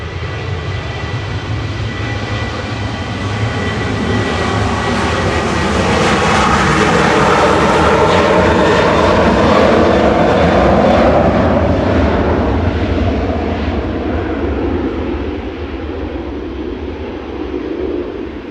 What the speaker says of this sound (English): Tui's lined up and ready to go on 23 left, heading off to Corfu.